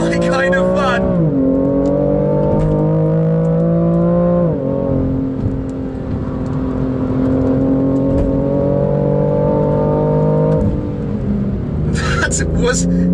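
A BMW M3 CSL engine climbs in pitch through the gears toward the red line, with several upshifts and a loud, sustained rasping drone close by, and a voice talking over it.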